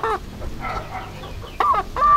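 Domestic hens cluck close by, a few short throaty calls spaced unevenly, the last two louder and more drawn out.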